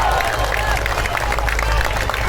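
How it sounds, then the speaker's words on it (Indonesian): Crowd applause at an outdoor May Day 2023 labour rally with workers and ride-hailing drivers, a steady dense wash of clapping and hubbub that fills the whole moment at close range, with crowd chatter mixed in. "Tepuk tangan dulu."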